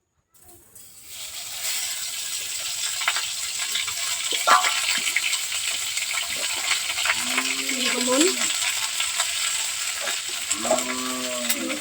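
Dried fish (shutki) frying in hot oil with spices, a steady sizzling hiss after an initial quiet start, with someone talking over the cooking and a few clinks and bubbling sounds.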